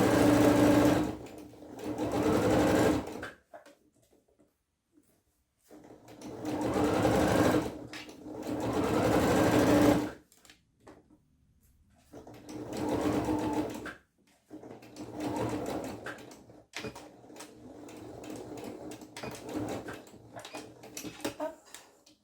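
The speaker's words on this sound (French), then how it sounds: "quand je couds avec un point assez long, je suis obligée de reculer plus que 3 points" Sewing machine stitching trouser fabric in bursts of steady, fairly loud whirring, with short pauses and quieter backstitching stretches between runs, and no talk.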